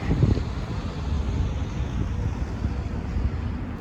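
Steady wind buffets the microphone on a walk through downtown Winnipeg with a low, rumbling roar that holds at an even level throughout, and no one speaks.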